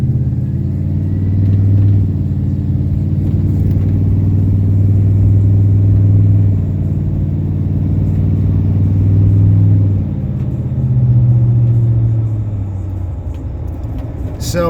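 A deep, rumbling exhaust note from a 2002 GMC Sierra 2500 pickup with a new muffler accelerating and easing off, loud and close, rising and falling through gear changes.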